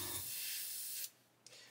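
Airbrush spraying paint onto a 1/35 ICM CH-54A Tarhe scale model helicopter: a close, steady hiss for about a second, then it stops, followed by a brief second puff of spray.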